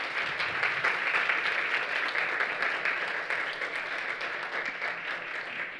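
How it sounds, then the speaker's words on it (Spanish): An audience applauds steadily and loudly for the full span, dense continuous clapping that tapers only slightly near the end. "Un aplauso para Marina, por favor."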